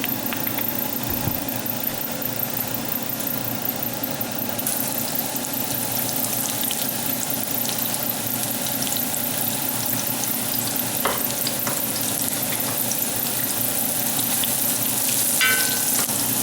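Onions fry in sunflower oil in a large Dutch oven, giving a steady close hiss and crackle over a low continuous hum, with a few brief clatters near the end.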